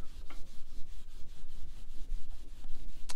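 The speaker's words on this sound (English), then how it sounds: "So it's just a matter of gently rubbing this, just light pressure with the hand," Steel wool rubbed by hand over the finish of a turned wooden antique table leg, a steady rhythmic back-and-forth scrubbing with light pressure along the grain, close and continuous.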